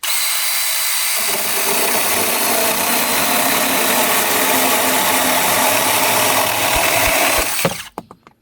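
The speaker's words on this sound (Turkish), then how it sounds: "Çünkü zincirli testere olduğu için böyle böyle çırpabiliyor." A cordless Assur chain pruning saw cuts through thick wood, its motor and chain whining loudly and steadily for about seven seconds before winding down, followed by a few knocks as the cut finishes.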